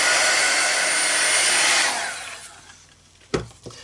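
A heat tool or dryer roars loudly while drying craft paint, then winds down and fades out, followed by two brief knocks near the end.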